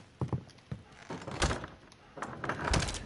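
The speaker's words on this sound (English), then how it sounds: "I want to shut the door" In Call of Duty: Warzone, a door is shut with a few dull thunks and scrapes, close and moderately loud, alongside soft in-game movement noise.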